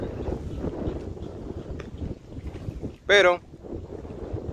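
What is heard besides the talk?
strong wind blowing on the microphone outdoors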